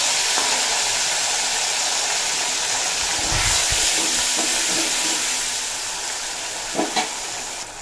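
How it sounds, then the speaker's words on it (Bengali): Grated ginger, green chili and tomato paste sizzle in hot oil with cumin seeds and a bay leaf, a steady close frying hiss with occasional stirring scrapes, alone without talk. "ফোড়ন সুন্দরভাবে ভাজা হয়ে গেছে, দিয়ে দেব আদা, কাঁচা লঙ্কা আর টমেটো বাটা।"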